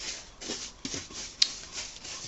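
A cloth wipes liquid onto the surface of a wooden box, making soft, close rubbing swishes at an uneven pace with a few sharper scuffs.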